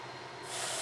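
An airbrush sprays paint onto a model Tiger tank, a steady hiss that swells louder and brighter partway through as the spray is pushed harder, close to the microphone.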